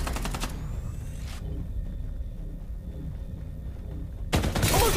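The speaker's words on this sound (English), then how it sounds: "I'm under fire!" Game gunfire from Farlight 84 crackles as a dense, sustained volley, with sharper loud bursts at the start and end framing a steady rumbling barrage in between.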